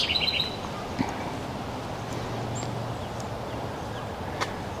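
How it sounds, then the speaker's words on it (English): Soft bird chirps and tweets sound over a quiet garden background in early June, with a brief burst of calls at the start and scattered faint notes after. "as we listen to the birds chirp"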